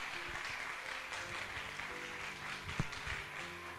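Congregation in a church applauding, a dense wash of clapping at moderate level with a low hum and faint voices mixed underneath.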